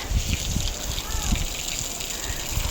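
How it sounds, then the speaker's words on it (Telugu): Water gushes steadily into a container, a continuous rushing pour with low thumps and background noise. "ఇప్పుడు నీళ్ళు పట్టాలి"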